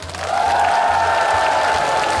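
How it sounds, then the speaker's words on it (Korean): A festival audience applauds and cheers at the opening show of the 10th Sunchang jang (fermented sauce) festival, a steady wash of clapping from a large outdoor crowd that swells and holds loudly throughout. "그러면 박수 함성."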